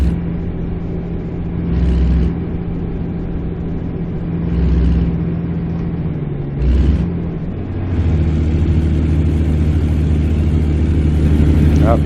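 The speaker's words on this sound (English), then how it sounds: "People like hearing the engine and the purr of the engine, so y'all can hear that all the way till we drop." Truck engine in American Truck Simulator, a steady low rumbling purr with a few swelling surges as revs rise and fall, running continuously in the foreground.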